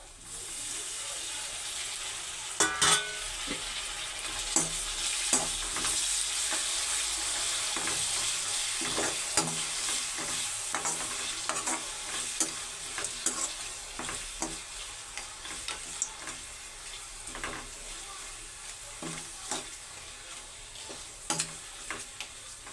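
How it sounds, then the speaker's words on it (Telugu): Chopped tomato pieces fry in a pan for tomato rice, a continuous sizzle broken by repeated scraping stir strokes and clacks up close, with no voices. "దాంట్లోకి ముందుగా కోసుకున్న టమాటా ముక్కలు అయితే వేసేసుకుందాం"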